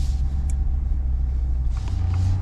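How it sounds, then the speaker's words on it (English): Interior engine and road rumble from a 2023 Ford F-250 Super Duty Platinum pickup driving at night, a steady low drone with a slight rise near the end, no talking. "let's take the Super Duty for a spin. See how it is on the road."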